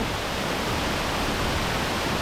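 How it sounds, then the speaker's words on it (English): A waterfall in the Gran Sabana, Venezuela, roars as a steady, dense wash of falling water heard up close, loud and unbroken with no voices. "This is one of the most beautiful waterfalls here in the Gran Sabana, in my opinion."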